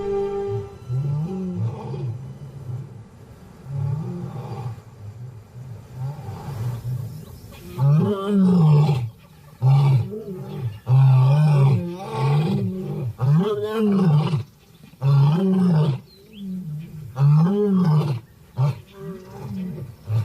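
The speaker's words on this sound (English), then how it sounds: "The power of their desperate roars carry far enough to reach the pride." Young male lions in the desert give repeated deep, desperate roars in a steady rhythm of grunting bursts, loud and carrying, with brief pauses between calls and no talk.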